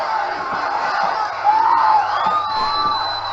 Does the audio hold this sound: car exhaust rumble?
no